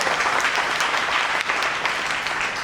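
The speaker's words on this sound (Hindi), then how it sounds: "जोरदार तालियां पंच तुलसी के लिए" Short burst of loud applause from an audience at a network marketing training event in Meerut, a dense, continuous clatter of clapping hands with a few sharper individual claps standing out.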